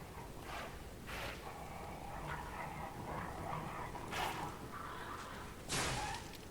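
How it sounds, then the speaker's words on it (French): A dog in the video game Lies of P gives several short yips and barks spaced over a few seconds, with whooshing sounds in between and no speech. "J'ai vu qu'il y avait un chien en bas."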